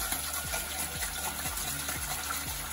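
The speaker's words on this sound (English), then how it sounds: "Put a bit of water" Water gushes steadily from a tap or is poured into a pot of salted water for cooking conch (gong gong). The flow is continuous and moderately loud, with a faint rhythmic pumping undertone and no talking.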